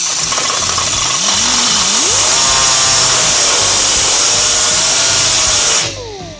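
Power tool cutting through rusted sheet metal on a pickup truck body, a loud continuous whine whose pitch rises and settles as it bites, running close up for about six seconds before cutting off.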